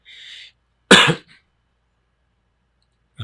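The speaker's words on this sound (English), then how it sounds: "It doesn't matter how many times I clear my throat before I hit record" A person clears their throat in one short, loud burst, preceded by a faint brief noise and followed by quiet, then another sound starts at the end.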